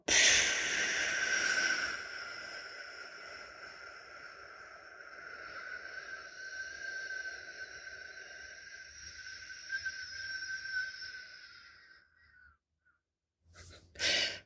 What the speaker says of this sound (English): And then you breathe out as long as possible.